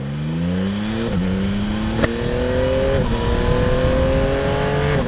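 A twin-turbo V8 Audi RS7 drives by, its loud engine note climbing steadily through the gears with a brief dip at each shift, heard close and continuous over road noise, with no talk.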